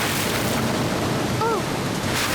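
Steady broadband rush of a jungle waterfall in an animated Hindi Jungle Book story, heard as continuous loud wash throughout, with a brief tonal bird-like call partway through.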